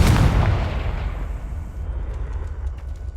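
The Confringo blasting spell erupts in Hogwarts Legacy, a loud, deep explosive boom that hits at once and then rumbles and fades over a few seconds, alone with no talk.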